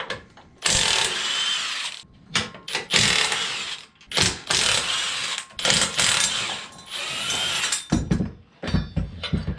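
A power tool with a socket zips grill guard bolts off a Kubota BX tractor in a series of loud, close, ratcheting bursts separated by short pauses.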